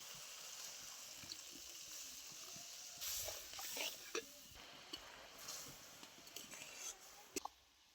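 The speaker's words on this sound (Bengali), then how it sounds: "এবার আমি জল দিয়ে দিচ্ছি।" Water is poured into a pan of spice paste fried with tomato, whole chillies, cumin and mustard, giving a soft, steady hissing sizzle that bursts louder and sputters after a few seconds, heard close but quietly.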